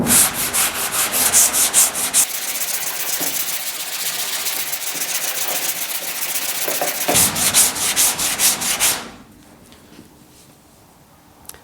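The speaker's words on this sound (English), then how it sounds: "We're going to hit it with some 80 grit real quick and see what we see." Body filler on a GTO restomod sanded by hand with 80 grit sandpaper, a loud continuous rasping scrub in rhythmic back-and-forth strokes at close range that stops abruptly near the end, leaving quiet.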